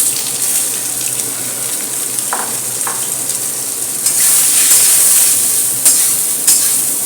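Nutrela soy chunks sizzling in a little hot oil in a pan, a steady close crackle with a few soft clinks of the pan partway through, no talking.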